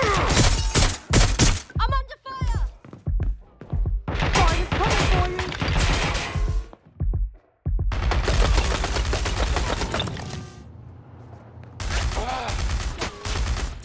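Explosive bursts and crashing blasts from an exploding spider drone in the video game Watch Dogs: Legion, arriving in several loud clusters amid gunfire-like clatter and game combat noise.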